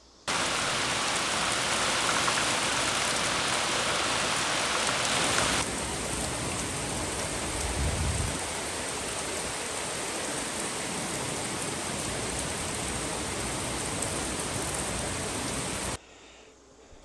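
Steady, heavy rain falls outdoors as a dense, continuous hiss that stays loud and unbroken for the whole stretch before cutting off abruptly at the end.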